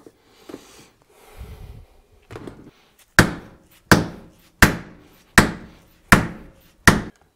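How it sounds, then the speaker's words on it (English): Hammer strikes on the swing bearing of a Hitachi EX120-2 excavator during a swing device rebuild: six loud, evenly spaced metallic blows ringing close by, after some softer scraping and handling noises. "it's probably a bad idea to be continuing hammering on here"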